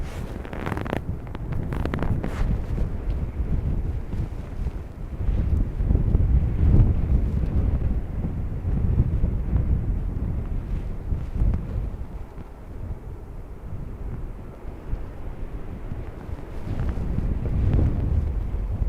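Strong, gusty crosswind buffets the microphone at Dublin Airport, producing loud, surging low rumbles and blasts that rise and fall in waves across the whole span with no talk.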